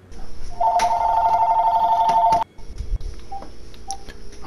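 An electronic landline house phone rings loudly with a steady two-tone warble for about two seconds, then cuts off abruptly, leaving faint room noise and small clicks.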